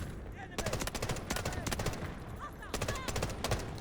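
Hip-fire gunfire in the video game Delta Force comes in rapid automatic bursts, loud and close, separated by brief pauses, with a voice talking faintly underneath.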